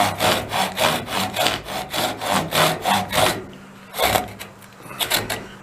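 A sharpened folding back saw cuts through wood in a steady run of about a dozen rhythmic rasping push-pull strokes, close and fairly loud, then pauses before a few more strokes resume.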